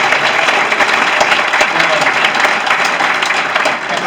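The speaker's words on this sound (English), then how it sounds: "How about a big round of applause for John?" A big round of applause for longtime volunteer John at a Sun Bowl volunteer recognition event, loud, dense and steady clapping from a crowd, with faint voices underneath.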